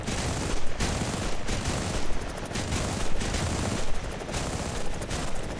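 Helicopter gun pod firing in War Thunder, several loud bursts of rapid automatic fire separated by brief pauses over a constant engine roar.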